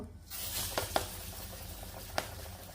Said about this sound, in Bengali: সবগুলা একই মাপের একই রকম আমি ভেজে নিব